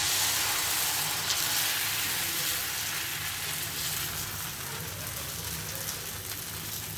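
Oil heating in a frying pan makes a continuous broadband hiss, like light rain, over a low steady hum. It stays even and fairly loud with no talking.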